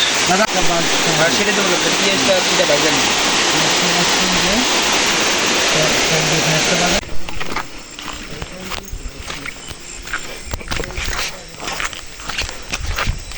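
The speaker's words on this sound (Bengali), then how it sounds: "মাশাল্লাহ কি সুন্দর একটা ঝর্ণা" A hillside waterfall right beside a kitchen in the Bandarban hills, a loud steady rushing roar for about seven seconds before it drops to a quieter, patchier background with scattered knocks and movement.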